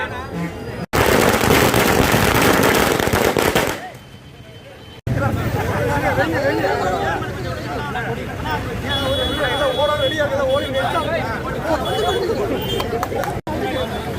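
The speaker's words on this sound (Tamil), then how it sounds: "பட்டாசு முதல்ல அப்புறம்" A dense, rapid barrage of firecrackers crackles loudly and continuously, with a brief lull, while a crowd at a DMK party celebration in Pollachi chatters and shouts slogans underneath.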